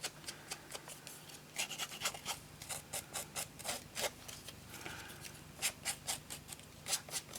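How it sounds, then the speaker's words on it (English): Quick, repeated rasping scrapes roughen the edge of a paper Happy Birthday topper for a handmade card, coming in short bursts up close with small pauses between strokes. "again, we're going to roughen up this edge"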